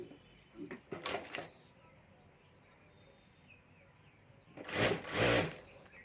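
Two short bursts of a sewing machine stitching the folded border of a homemade clutch bag, separated by a quiet pause, with a voice talking faintly in between.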